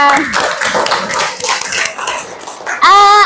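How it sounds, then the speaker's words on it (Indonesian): A school class of children clapping their hands together in a classroom, with quick uneven claps mixed with children's voices and chatter, ending in a louder burst of excited voices. "tepuk tangan buat kita semua"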